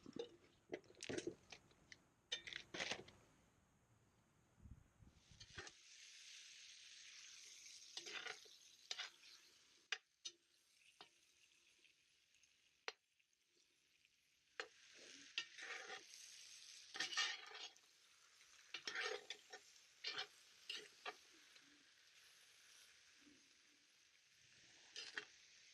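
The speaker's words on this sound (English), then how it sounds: "Going in with the beef. You probably already hear a sizzle." Beef browning in a hot pan for stew, a low steady sizzle broken by scraping and clinking as the meat is stirred and pushed back and forth, with quiet gaps between bursts.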